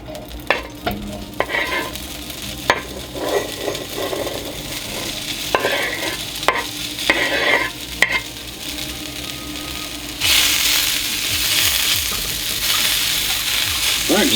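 Vegan bacon sizzles steadily in an oiled skillet, a continuous frying hiss broken by clinks and scrapes of a utensil, growing louder and denser toward the end.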